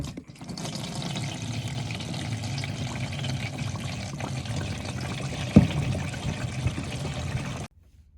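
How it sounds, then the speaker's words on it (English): Engine oil draining from the sump of a 2021 BMW R1250 GS Adventure motorcycle into a pan, a steady close trickle and splash of liquid that stops abruptly at the end. "while the oil's draining"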